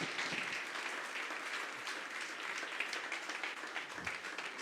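A church congregation applauds in a steady, sustained wash of many hands clapping, moderately distant and filling the room, with no talk.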